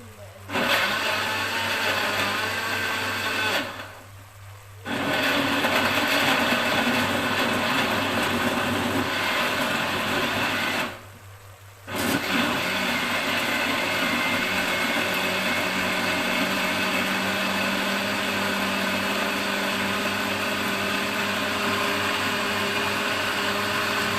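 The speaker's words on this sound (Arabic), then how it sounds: "هضرب الطماطم" A kitchen blender whirs loudly as it purees tomatoes for a vegetable sauce, running in steady bursts broken by two short pauses before starting up again.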